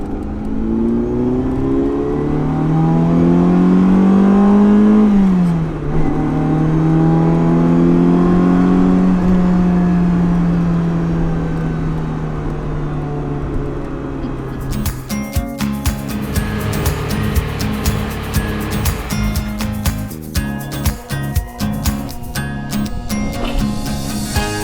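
A Ferrari 308 engine rises and falls through several revs as the car pulls away and shifts, the tone sweeping up and down, then settling into a rougher, choppier driving drone with road noise, loud and close.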